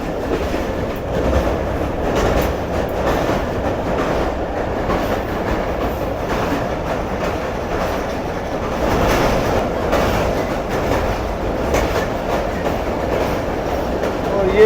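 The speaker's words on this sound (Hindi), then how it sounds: "मलिर रिवर ब्रिज से गुजर रहे हम लोग इस वक्त" Karakoram Express train rolling across the Malir River bridge, a steady, loud rumble of wheels on rails with rhythmic clattering throughout, no talk over it.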